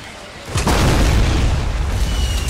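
Heavy rocket explosion in Fortnite, a deep booming blast that swells suddenly and rumbles on loudly, with no talk over it.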